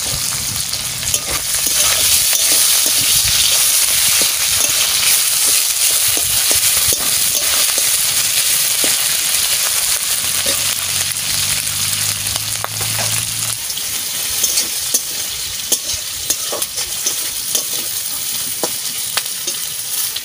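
Garlic, chilli and fish fry together in a pan, giving a loud, steady, close sizzling hiss with crackles that runs unbroken throughout, no voices.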